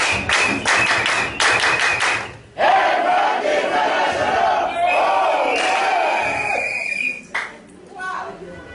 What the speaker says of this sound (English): an Edmark motivational clap for you yourself